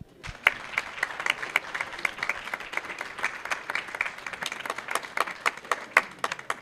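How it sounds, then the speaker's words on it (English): An audience at a constitution lecture gives a quick round of applause after a break. The clapping is steady and dense, at moderate volume, with sharp individual claps standing out throughout, and no voices. "just do a quick round of applause to invite those that are still out in the lobby to come back in"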